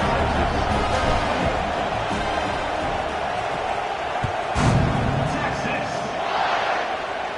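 A stadium crowd roars steadily in a college football video game, a dense wall of cheering with a brief thump midway, while a commentator talks over it.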